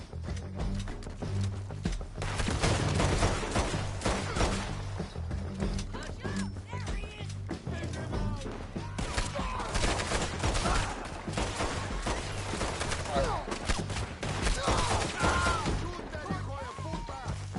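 Dense, sustained gunfire in Red Dead Redemption 2, with rapid overlapping shots and volleys rolling on continuously alongside horse hooves and shouting voices in a chaotic outdoor firefight.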